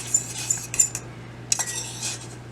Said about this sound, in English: stir in our egg, and we're going to make egg drop soup